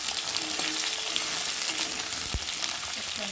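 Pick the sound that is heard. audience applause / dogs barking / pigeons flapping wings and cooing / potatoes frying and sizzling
potatoes frying and sizzling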